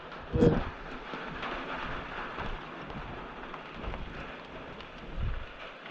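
Rain falls near Paleshwar Dam waterfall in a steady hiss with a couple of low rumbles, one early and one near the end, moderately quiet and without voices.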